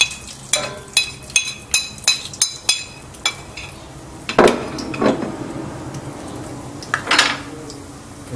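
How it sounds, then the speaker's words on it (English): Spices and salt stirred into ghee in a pan: a steady series of sharp metallic spoon taps against the pan, then looser scraping and clinking strokes, close and clear with no talk. "And just mix it around. Make sure the ghee gets the flavor of all the spices."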